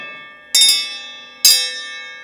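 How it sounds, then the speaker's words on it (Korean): Two bright metallic strikes on a ladle tied at its joint, about a second apart, each ringing out like a small bell with a long shimmering decay. "오 국자 안에 종소리가 숨어 있어요."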